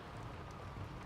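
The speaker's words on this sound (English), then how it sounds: "I guess it's raining and everybody's at home trying to stay out of it." Steady rain falling in the video game Skyrim, a soft continuous wash of patter with low rumbling texture, faint and unbroken throughout.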